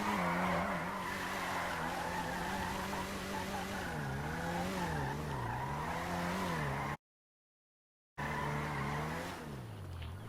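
A car in the video game GTA V revs and shifts pitch as it drives, with tire squeals and skids rising over a steady engine drone; the sound cuts out briefly, then resumes.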